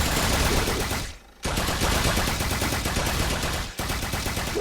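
Rapid continuous gunfire from a Toxic Gunner tower in the Tower Defense Simulator video game, a dense machine-gun stream with two brief pauses, loud and steady with no talk.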